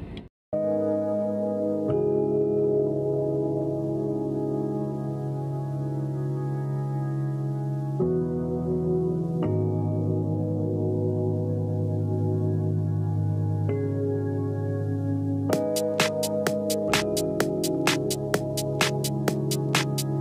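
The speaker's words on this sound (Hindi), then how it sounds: "ये जा रही है रेलवे, रेलवे मतलब इंजन जा रहा है रेलवे का" A railway engine passes a level crossing. A loud, close, sustained tonal roar shifts pitch several times and ends in a rapid series of sharp clacks near the end.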